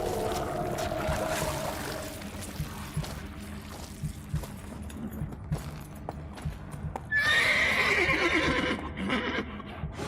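A horse in The Witcher 3 clops along with steady hoofbeats over a rumbling background, then lets out a loud, shrill whinny near the end.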